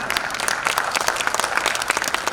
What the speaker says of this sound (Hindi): जोरदार तालियों से अभिनंदन कीजिए इन कलाकारों का।